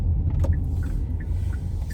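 A car driving gives a steady low road rumble heard from inside, with a few faint squeaks, brief and without talk.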